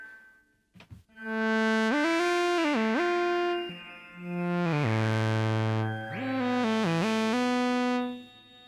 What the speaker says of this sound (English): this is a kind of shimmer reverb because we have it a few octaves higher